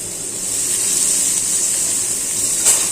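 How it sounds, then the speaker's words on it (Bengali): Onion and garlic fry in hot oil for a fish bhorta, giving a steady, close, bright sizzling hiss that holds evenly throughout with no talking. "এখানে আছে পেঁয়াজ আর রসুন, এটা ভেজে নিচ্ছি মাছের ভর্তা দেওয়ার জন্য"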